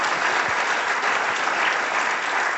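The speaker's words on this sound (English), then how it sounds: "how about a round of applause for the dean and this number one school 4 years in a row" A lecture audience applauds the dean and the school with steady, dense clapping that stays loud and even throughout, with no voices over it.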